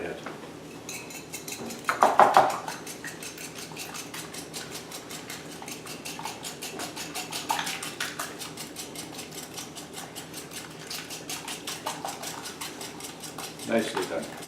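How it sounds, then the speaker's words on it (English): Eggs and freshly ground pepper whisked in a bowl in a kitchen, a steady rapid clatter of utensil against the bowl with a few louder knocks, going on for the whole stretch. "Okay, just whisk it up."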